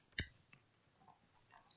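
Mouse clicks selecting cells in a Microsoft Excel spreadsheet while Control is held: one crisp, close click followed by several fainter, softer clicks spread out over a quiet background.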